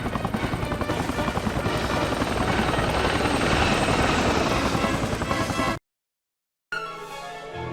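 A loud, close helicopter in the PSP game Spider-Man 2 thumps steadily with rotor chop for several seconds, then cuts off abruptly to silence before a different sound resumes.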